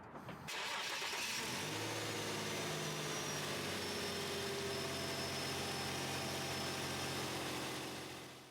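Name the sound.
Infiniti EX35 car engine started and running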